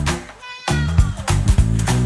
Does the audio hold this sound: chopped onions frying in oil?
no